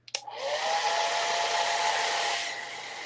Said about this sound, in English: I'm going to speed it up a little bit with a hair dryer here.